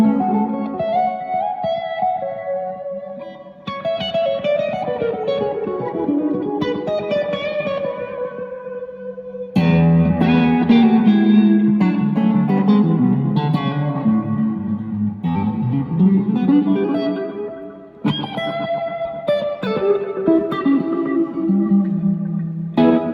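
Electric guitar played through a Victory amp with effects, heavily processed with distortion, chorus, echo and reverb, sustained melodic lines and chords ringing loud and full with no talking.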